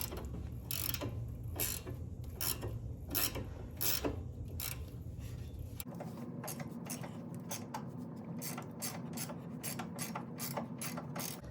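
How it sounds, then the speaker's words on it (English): A ratcheting wrench undoing a nut on a coilover sway bar end link of a 3G Mitsubishi Eclipse gives rapid repeated metallic clicks in steady bursts, close up, with no talking. "I can just hold that there while I undo that nut, and it should work. But you need a wrench for this one."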